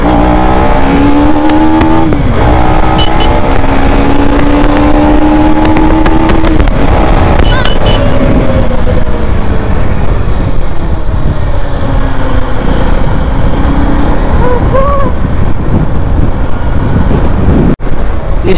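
A vehicle accelerating hard during a ride, its engine loud and close with rising, shifting pitch across several pulls and constant wind and road roar.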